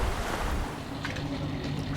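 Steady broadband rush of strong trade wind and waves at sea aboard a sailing yacht on passage toward the Canary Islands, continuous and loud with wind buffeting the microphone and no voices.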